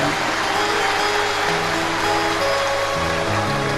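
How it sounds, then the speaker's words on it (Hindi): A large audience claps loudly and steadily at a Shiv Mahapuran katha, a Hindu religious discourse gathering. The applause runs throughout with a faint voice and tonal sounds underneath. "एक बार यजमान परिवार के लिए जोरदार ताली बजाकर स्वागत वंदन अभिनंदन"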